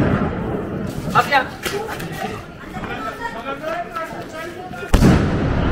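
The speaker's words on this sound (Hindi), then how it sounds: "हम पूरी रात पटाखे बजाएंगे आपके लिए" A Diwali firecracker bursts with a sharp loud bang near the end, set against ongoing family chatter and voices at a night-time celebration.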